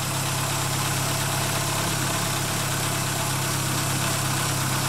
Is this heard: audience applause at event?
no